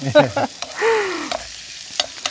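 Zucchini stir-fried in a frying pan until half cooked, as part of a beef and zucchini dish. A spatula scrapes and knocks against the pan in short bursts over a soft, steady sizzle, with no talking.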